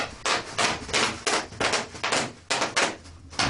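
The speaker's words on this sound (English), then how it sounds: "Tap dance on that, Garen." Tap dancing on a hard surface, a quick run of sharp percussive heel and toe strikes in uneven rhythmic bursts, close and fairly loud, with no talk over it.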